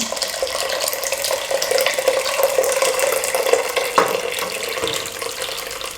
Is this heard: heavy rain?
no